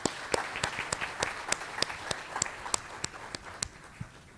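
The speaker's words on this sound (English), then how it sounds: "let us give a big applause all over again" Applause from a conference audience after a talk on thorium nuclear power, a steady wash of many hands clapping with some sharper individual claps standing out, fairly close and fading slightly toward the end.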